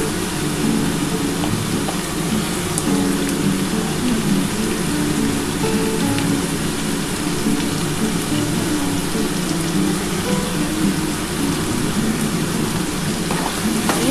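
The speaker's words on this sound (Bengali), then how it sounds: "দিয়ে আলুটার সাথে বরবটিটাকে ভালো করে ভেজে নিতে হবে।" Yardlong beans and potatoes fry together in a pan with a loud, continuous sizzle and crackle, heard up close with no talking.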